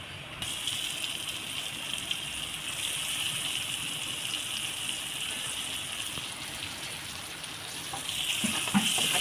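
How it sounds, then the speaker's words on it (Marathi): Tomato frying in oil with onion and asafoetida in a home kitchen for a potato dish, a steady loud sizzling hiss running throughout with no voices, swelling slightly toward the end. "आता सुद्धा व्यवस्थित तेलामध्ये फ्राय करून घ्यायचं"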